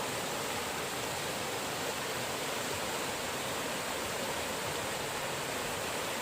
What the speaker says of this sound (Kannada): ತುಂಬ ರಭಸದಲ್ಲಿ ನೀರು ಬರ್ತಾ ಉಂಟು